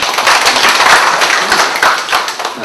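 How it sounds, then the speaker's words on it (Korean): A church congregation claps together in a dense, continuous burst of many hands, close and loud, lasting a few seconds without speech. "박수하겠습니다."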